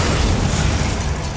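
A Bombarda explosion spell in Hogwarts Legacy, a loud, dense burst of roaring noise that fills the whole moment without a break.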